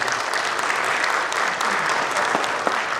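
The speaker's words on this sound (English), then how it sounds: "Let's give her a round of applause." Steady, dense applause from an audience at a fall sports athletic signing day, honouring a sports journalist, clapping continuously for a few seconds.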